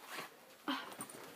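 A puppy wearing a cone after surgery gives a few soft, faint whimpers and small breathy sounds, heard close and quiet with no talking.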